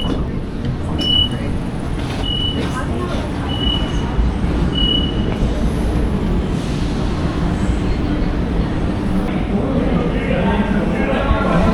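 Steady rumble of a double-deck train rolling through a Sydney station, heard from the top deck, with faint wheel squeals and a muffled voice in the background throughout.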